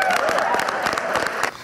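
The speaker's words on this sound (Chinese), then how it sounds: "在支持者的欢呼声中" Supporters cheer and applaud at a US presidential event, a dense, steady wash of clapping and crowd noise that drops off near the end.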